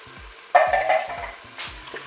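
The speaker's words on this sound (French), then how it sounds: "Je vais verser la boîte de tomates concassées" A can of crushed tomatoes tipped into a Cookeo multicooker, a wet pour and splatter followed by stirring with a utensil, close and moderately loud, with faint rhythmic low clicks underneath.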